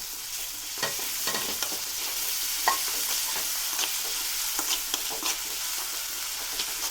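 Crushed ginger and garlic frying over medium flame in a pan, a soft continuous sizzle broken by repeated spoon-stirring scrapes and clicks, close by with no voices.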